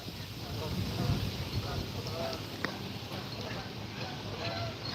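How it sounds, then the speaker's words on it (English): Steady wind blows outdoors during a fishing trip on open water, a constant broadband rush buffeting the microphone with no clear gusts or breaks. "the wind's picking up"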